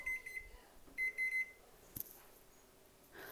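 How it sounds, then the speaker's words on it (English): Oven timer going off in a home, bursts of quick electronic beeps repeated in short clusters, fairly faint and distant in a quiet room. "Sorry, oven timer."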